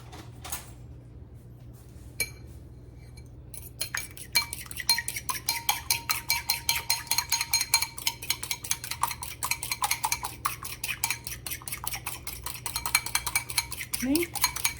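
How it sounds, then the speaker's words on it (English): A fork whisking egg in a bowl for egg drop soup, rapid rhythmic clinks of metal against the bowl, beginning after a few scattered taps and continuing steadily and close up. "now I'm going to get a fork and whisk it."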